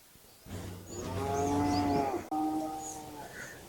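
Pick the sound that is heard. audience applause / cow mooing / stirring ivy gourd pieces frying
cow mooing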